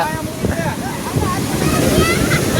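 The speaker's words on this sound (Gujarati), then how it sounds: "બૂટમાં પાણી ભરાઈ ગયું મોજું આવ્યું છે" Steady roar of sea waves surging and washing ashore at Somnath, wetting the shore, with wind buffeting the microphone throughout.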